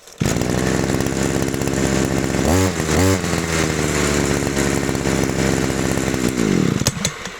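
A Stihl petrol grass trimmer with a newly replaced carburetor runs loud and close with a steady buzzing engine drone, briefly dipping twice mid-run before revving and cutting off near the end.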